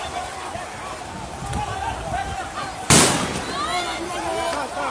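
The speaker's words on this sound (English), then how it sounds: "They are shooting the prisoners." A single sharp bang, probably a gunshot, cracks out loudly during a prison escape, set against a steady din of crowd babble and shouting voices.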